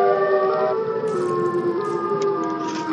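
Siren Head, a video game monster, lets out a loud wailing siren call of layered sustained tones that bend slightly in pitch, filling the whole moment on its own.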